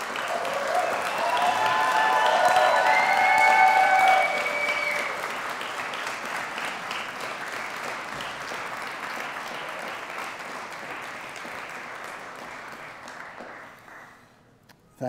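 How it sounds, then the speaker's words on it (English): Loud, sustained applause with cheering and whistles fills a graduation ceremony hall at the University of Manchester, the crowd noise peaking early, then fading to scattered clapping before it stops. "Clap, cheer, whistle."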